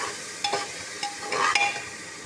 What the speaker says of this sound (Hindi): अब अच्छे से मिक्स कर लेंगे।